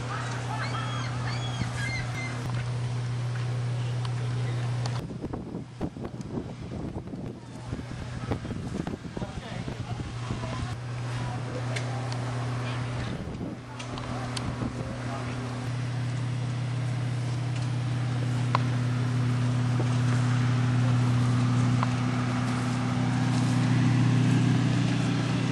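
A 1935 Mack diesel truck idles at a farm exhibition with a steady, low, humming engine drone. Wind buffets the microphone and outdoor background noise sits around the engine.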